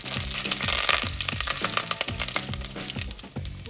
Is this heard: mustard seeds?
yes